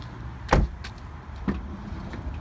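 Sliding rear door of a 2017 Mazda 5 GS minivan, with a sharp thud of the door closing followed by a softer latch click a second later, close up and without talk.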